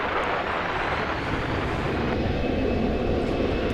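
An American Airlines Boeing 777-200 jet passes near Dallas-Fort Worth airport, giving a steady, loud, broadband engine roar that holds level throughout with no voices.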